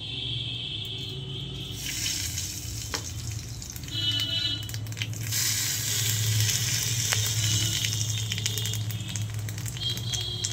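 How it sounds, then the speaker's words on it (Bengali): Black cumin seeds sizzle and crackle steadily in hot white oil in a pan, a continuous close frying hiss with a steady low hum beneath, no talking. "গরম হলেই তেলের ভিতরে আমি কালো জিরা দেব"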